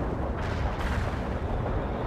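In the video game World in Conflict, an artillery barrage fills the scene with a dense, continuous, loud rumble of overlapping blasts, with no voices.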